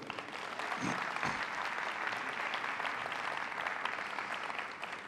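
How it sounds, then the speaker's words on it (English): An audience gives a sustained round of applause for a backstage crew at an artificial intelligence event, steady dense clapping filling the room for several seconds with no speech over it. "I just wanted to ask you a big round of applause for them"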